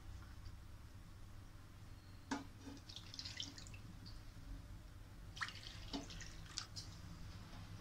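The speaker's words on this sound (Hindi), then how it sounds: "हम ऐड करेंगे वाटर" Water is added to a cooking pan for shahi paneer, faint splashes and drips in two short bursts over a low steady background hum.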